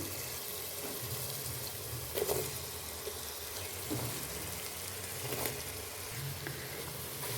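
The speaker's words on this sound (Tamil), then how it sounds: "நம்ம தாளிப்புக்கு சேர்த்த எண்ணெயிலேயே இது எல்லாத்தையுமே வந்து நல்லா வந்து வதக்கி விடுவோம்" Potatoes and soy meat sautéing in the oil left from tempering, a steady broadband sizzle with a few soft clinks and stirs, no talking.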